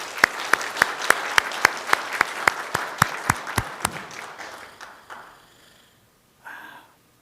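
A church congregation on Easter morning claps in unison, about fifteen sharp, evenly spaced rhythmic claps that then trail off into scattered clapping and fade, followed by a brief murmur near the end.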